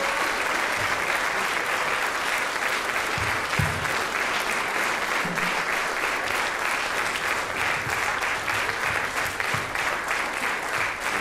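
Sustained applause from a concert audience after a performance of a suite of European nations, a dense, steady patter that holds for over ten seconds with no voices on top.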